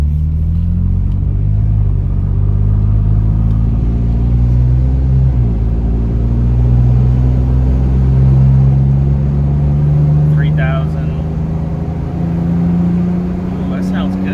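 A Toyota Tacoma fitted with an R4T high-clearance cat-back exhaust pulls uphill from a stop, its deep exhaust rumble rising steadily in pitch as the engine revs climb, loud and close, with a short break near the middle.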